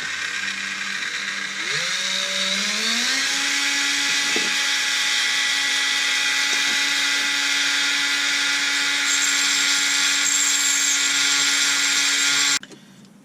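A rotary tool fitted with a diamond bit whines as it spins up, its pitch climbing, then grinds a bevel on the cylinder port lip of a Husqvarna 272 chainsaw, holding a steady high-pitched drone for about ten seconds before cutting off abruptly.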